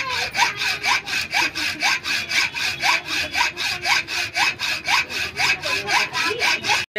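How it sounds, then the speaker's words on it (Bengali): Steel shock absorber rod from a Hero Honda Glamour rear shocker being ground on a grinding stone, a steady rasping scrape repeating in quick regular strokes, close and fairly loud, with no talk. "দেখুন আমি এই রডটাকে এখান থেকে সান থেকে ঘষে নিচ্ছি"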